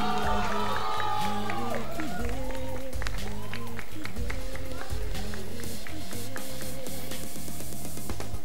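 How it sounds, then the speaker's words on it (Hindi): A crowd at a dance competition elimination round in Arunachal Pradesh applauds and cheers while loud music plays, the clapping blending into a dense, steady wall of sound. "जोरदार तालियां हो जाए बिक्की लोकी के लिए।"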